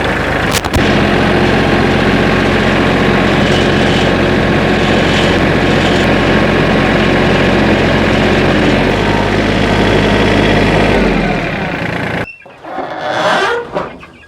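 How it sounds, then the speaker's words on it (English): A tractor engine runs loud and close with a steady low rumble while moving a mobile chicken coop across grass, its tone shifting slightly before it stops, followed by brief quieter handling noise. "I will be taking it over with a tractor"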